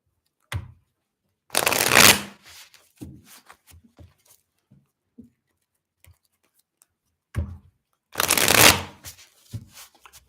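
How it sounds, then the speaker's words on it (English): A deck of cards shuffled for a live reading on a table, with two loud riffling bursts several seconds apart and scattered soft taps and card handling in between. "people were complaining yesterday about the shuffling"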